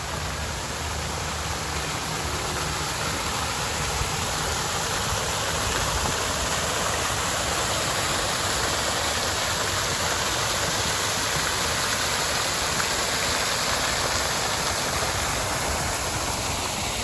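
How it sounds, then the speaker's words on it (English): Garden water features in a family garden in spring, steady rushing flow like a small waterfall or stream, broadband and constant at close range, with no voices. "A lot of water features here, so you always have that beautiful sound of water."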